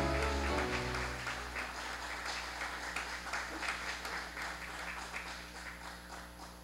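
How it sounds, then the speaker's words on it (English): Guests at the KUAM Honors ceremony applaud a Health and Wellness Award recipient, a fairly distant, moderate patter of clapping that slowly thins out over a low steady hum. "Please give a warm round of applause to Linda Pico DeNorsi, KUAM Honors Health and Wellness Award recipient."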